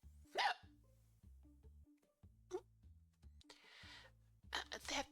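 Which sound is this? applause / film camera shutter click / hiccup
hiccup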